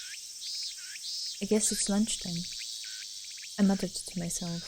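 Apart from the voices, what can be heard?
cicadas chirping outside, from the video game Ef: The Latter Tale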